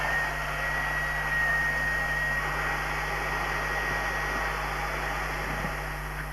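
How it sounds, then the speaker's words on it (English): Two vacuum cleaners hooked to a length of old pipe blow air in a steady, loud, unbroken rush with a faint hum underneath, continuous throughout with no talk. "So I just got a bit of old pipe and connected it up to a couple of vacuum cleaners."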